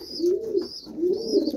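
Domestic pigeons coo in a loft, giving two clear, low, rolling coos close by with a softer higher twitter between them, and no talk over them.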